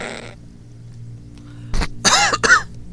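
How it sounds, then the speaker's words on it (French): A person lets out three short, harsh coughs close up after a brief murmur, each burst rough and distinct against a quiet background hum. "J'en tousse."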